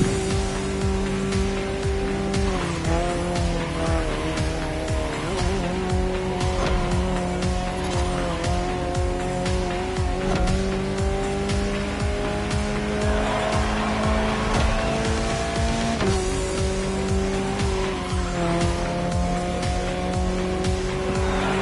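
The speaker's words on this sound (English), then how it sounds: "Incredible to see this stunning concept car in action. This is the hydrogen-powered Alpenglow" The hydrogen-powered Alpine Alpenglow concept car racing in The Crew Motorfest video game, its engine droning loudly and steadily with repeated gear-shift pitch drops, tires squealing through corners, constant and close throughout.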